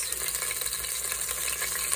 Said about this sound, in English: press all of that garlic right into the hot oil. He puts it in, holds it over the top, squeeze, and sizzle